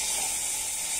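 Tomatoes frying in a pan make a steady, soft sizzle and hiss, even and continuous with no talking.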